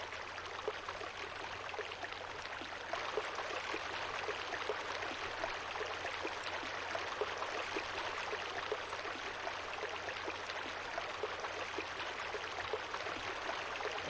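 Steady rushing of a 20-meter horizontal water stream in a building video game, a continuous even hiss of flowing water without pause.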